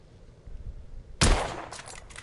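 A single sharp gunshot in the steampunk video game The Order: 1886 cracks out loudly over quiet low background noise, followed by a short reverberant tail with a few fainter follow-up bursts.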